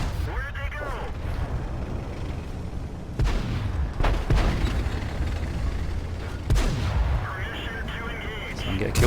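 A T-44-100 tank gun fires in World of Tanks, with several heavy booms and rumbling impacts spaced through the clip, layered over game engine noise while someone talks throughout.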